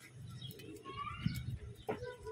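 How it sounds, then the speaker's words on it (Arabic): A pigeon coos close by in a pair of low, soft throaty calls, with scattered higher chirps and faint background noise around them and no speech. "وده طبعا فرد حمام احنا ماسكينه ما نعرفلوش صاحب"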